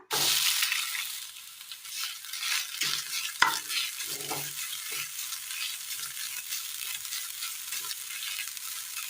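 Grated coconut roasting in a little oil in a pan, a steady, fairly quiet sizzle with brief clinks and scrapes of stirring, no voices.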